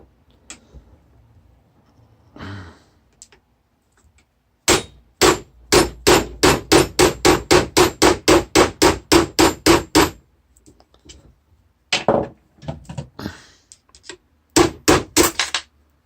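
Hammer and steel punch knocking a pin out of a Gamo Accu air rifle: a few isolated taps, then a rapid run of about twenty sharp metallic clangs, followed by scattered strikes, close and loud.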